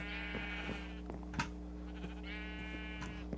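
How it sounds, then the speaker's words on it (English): Sheep in the Minecraft video game bleat in two drawn-out wavering calls, spaced apart over a steady low game hum, with small clicks and no talking. "Now I have all our colored sheep as well, so we can start breeding them up."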